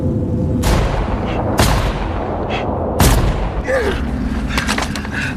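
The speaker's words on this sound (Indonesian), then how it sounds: "langsung menembak ke beberapa arah ke tumpukan puing-puing itu" Gunfire from the war film The Wall, with a sniper shooting in several directions at a pile of rubble: three sharp, loud reports a second or so apart over a dense, rumbling battle soundtrack.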